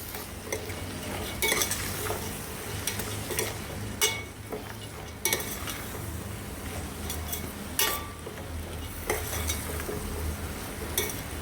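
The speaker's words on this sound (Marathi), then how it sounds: "एकजीव करूया, चांगलं ढवळून घेऊया." Sprouted vaal beans and snake gourd bhaji are stirred in a pan with a spoon, steady scraping and clinking strokes over a continuous sizzle, close and fairly loud.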